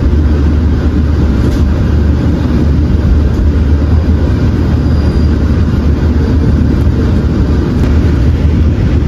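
Freight train KA 2617, a Gamo Tanker fuel-carrying service, rolling past at Tegal station, a loud continuous low rumble and clatter of wagons heard close and steady throughout, with no talking.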